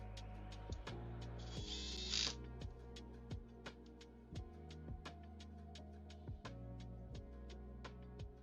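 Screws being driven into a PS5 SCUF controller during a TMR upgrade, heard as a rapid series of sharp mechanical clicks and ratcheting ticks with a brief whirring burst near the start, close and fairly quiet.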